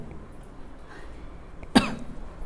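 A single sharp cough bursts out once, fairly close, against a quiet room hum, with no talking around it.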